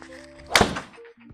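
A golf club strikes the ball for a high fade shot using a stack-and-tilt swing: one solid, close thunk of impact, briefly loud against a quiet outdoor background.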